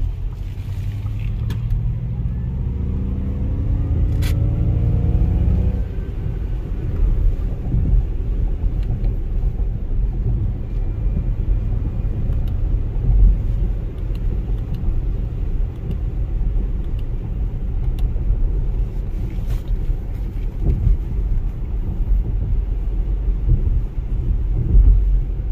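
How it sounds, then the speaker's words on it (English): A Ford Mustang Mach-E, a 2022 model, produces a simulated V8 engine sound while accelerating: a loud, steady low rumble with a rising tone early on, continuing alone without talk. "you go to increase speed, you get this V8 sound"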